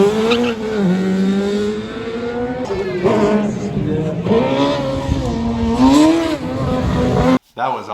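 A Lotus Elise 111R with a 2ZZ engine at an autocross event, revving hard through gear changes with rising and falling engine pitch, loud and close, before cutting off abruptly near the end.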